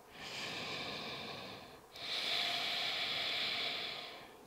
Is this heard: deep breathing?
yes